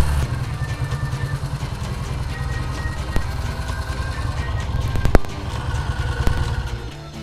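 A 1966 Triumph Bonneville motorcycle is ridden with a steady, loud engine throb and rapid pulsing exhaust, plus a few sharp clicks and knocks along the way, continuous and close.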